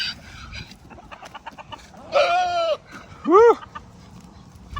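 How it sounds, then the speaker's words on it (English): Chickens cluck and squawk nearby, with two loud drawn-out calls in the middle, while a person gives a brief exclamation. "Chickens."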